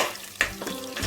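Whole spices, bay leaf, cinnamon, cloves, fennel and cardamom, sizzling in oil in a pan for mushroom biryani: a brief, steady close-up fizz and crackle.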